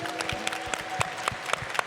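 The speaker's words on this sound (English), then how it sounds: "Clap it up for Virginia." An audience at a justice-reform summit on parole and probation claps for Virginia, with sharp individual claps and scattered hand strikes standing out over a light crowd murmur in a short burst.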